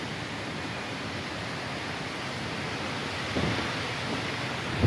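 Typhoon Pepito lashing Daet with strong wind and heavy rain, a dense, steady roar of wind and rainfall with a sudden louder gust or bang at the very end.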